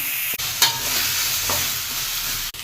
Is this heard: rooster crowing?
no